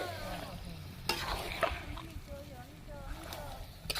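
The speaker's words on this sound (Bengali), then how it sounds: "মাংসটা রান্না হচ্ছে" Meat cooks in a pot over a clay stove, with soft bubbling, sizzling and several clanking stirs of a spoon, while a person talks over it.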